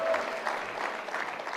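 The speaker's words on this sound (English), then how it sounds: "Let's give her a round of applause for the yelling" Audience applause at a real estate investing conference, a steady patter of clapping hands held at an even level throughout with no speech over it.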